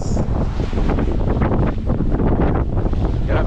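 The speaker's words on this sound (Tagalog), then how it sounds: "parang elepante yung tunog eh ng hangin. Naungol lang hangin, nasipol." Strong wind howls and whistles across a boat at sea, a constant loud roar with gusty surges.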